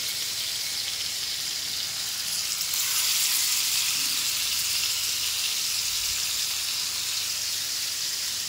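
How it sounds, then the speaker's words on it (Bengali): Fish fries in a pan with a steady, hissing sizzle that swells slightly midway and stays close and continuous throughout, with no voices. "দেখতে দেখতে আমার মাছ ভাজা হয়ে গেছে"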